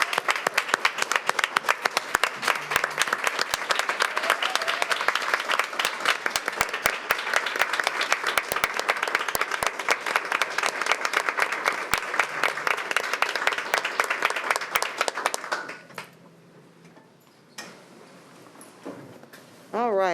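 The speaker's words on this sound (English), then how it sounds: "let us give you a round of applause" Applause from an audience at a school board of education meeting, dense sustained clapping for about fifteen seconds before it fades out, with faint voices and a brief noise after.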